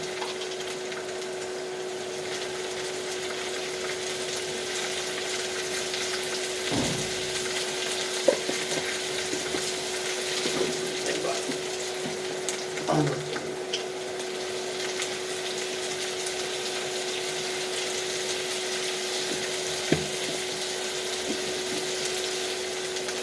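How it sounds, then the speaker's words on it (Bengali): Papaya frying in a pan with salt, a steady soft sizzle running throughout, broken by occasional scrapes and knocks as a utensil stirs it. "এখন নাড়তে থাকি, আরও ভাজিয়ে নিয়ে।"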